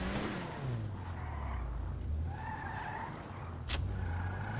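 A car in a video game driving on a punctured tyre, its engine droning and shifting pitch, with a skidding scrape and a sharp high squeal near the end.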